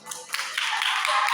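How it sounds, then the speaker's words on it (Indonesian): Schoolchildren clapping for a classmate during a traffic-safety lesson given by local police; a short burst of quick, close hand claps that builds and thickens over about a second. "tepuk tangan dulu deh buat temannya"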